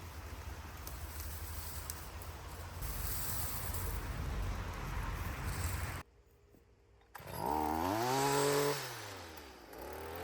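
A small trimmer's engine cuts tree sprouts out of tall grass. It drones steadily for about six seconds, goes quiet for a moment, then revs up sharply and falls away again in a wavering whine.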